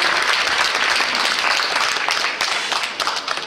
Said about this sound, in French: applaudissements supplémentaires, donc, pour Marco